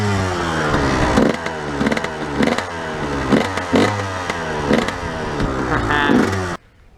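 A motorcycle engine runs up close with a loud, rough, pulsing idle and several revving surges, then cuts off abruptly at the end.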